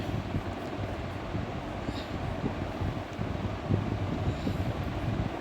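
Steady low rumble and rattle of a train in motion, heard from inside a passenger carriage near Tirunelveli, with continuous wind-like noise and faint clatter throughout and no talking.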